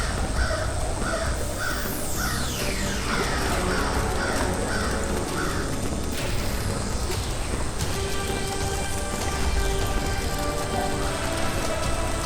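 A crow caws repeatedly in a steady rhythm over a constant hiss of rain falling on a surface, with no voices.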